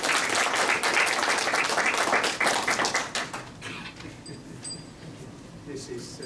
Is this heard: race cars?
no